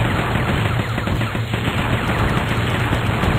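Rapid gunfire in a Flash video game, a dense, loud, continuous rattle of shots over a steady game soundtrack, running without pause.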